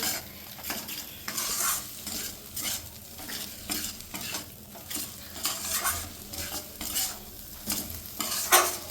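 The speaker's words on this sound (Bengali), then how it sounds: "মশলাটাকে আমি ভালো করে কষিয়ে নিচ্ছি" Spice paste with poppy seed sautés over a low flame, a near sizzle swelling and fading with a rhythmic series of scraping stirs against the pan, and no one speaking.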